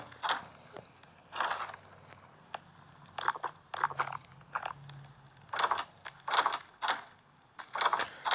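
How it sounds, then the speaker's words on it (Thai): Crunching, biting and chewing as a character eats and drinks in Grim Soul, a series of short close crunchy bursts in irregular rhythm with quiet gaps between. "กินน้ำกินอาหารก่อน จะตายอยู่แล้ว"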